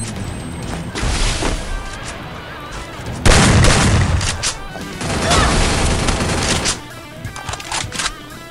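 Explosions and bursts of gunfire from a Free Fire mobile battle royale match, a loud blast at mid-clip followed by rolling crashes and scattered shots.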